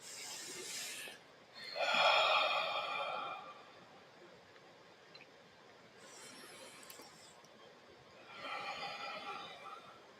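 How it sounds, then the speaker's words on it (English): A small group takes a couple of slow, deep breaths together during a guided shamanic meditation session; three long, airy breaths rise and fade with quiet pauses between them. "Just let's take a couple deep breaths together"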